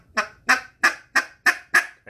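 A double reed duck call blown hard gives six loud, evenly spaced honking quacks in a steady rhythm, close and alone.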